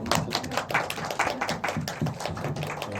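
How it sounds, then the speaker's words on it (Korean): An audience at a Korean film screening talk event claps together, giving a close, moderately loud patter of individual hand claps that runs on steadily without any speech over it. "박수 한번 이제 해주시면"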